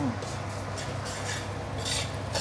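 Sambal belacan is dry-fried in a pan, giving a steady soft scraping and stirring rustle with a faint sizzle underneath, close and continuous.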